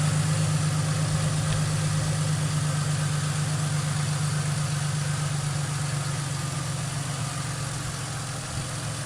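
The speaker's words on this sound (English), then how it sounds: "I'm gonna let her just idle. Let her idle for a little bit before I mess with it." A car engine idles steadily, a low, even mechanical drone that holds constant and close for the whole stretch with no talking.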